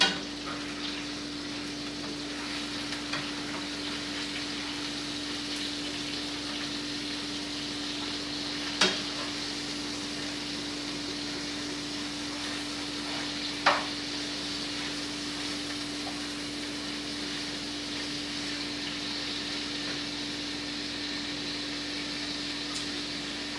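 Burgers sizzle steadily on a grill outdoors in Canada, a constant soft hiss under a faint electrical hum, broken by two sharp clicks or taps from flipping.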